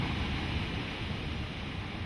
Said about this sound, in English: By early summer, the sound of water thunders throughout the park.